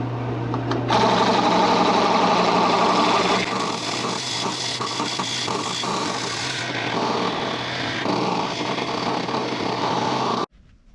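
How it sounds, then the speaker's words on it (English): A wood lathe turns a piece while a tenon is cut off, giving a loud, steady rough whir and scraping chatter that runs nearly unbroken for about ten seconds before stopping abruptly. "it's gonna be very noisy, as you can already tell, but we're just gonna take this tenon off and then sand it"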